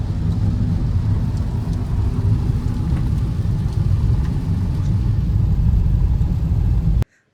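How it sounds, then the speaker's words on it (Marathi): Rain falls during a road trip to the Konkan coast near Sawantwadi, a dense steady low roar with heavy rumble, loud and unbroken until it cuts off abruptly near the end. "आम्हाला पाऊस पण भेटलाय"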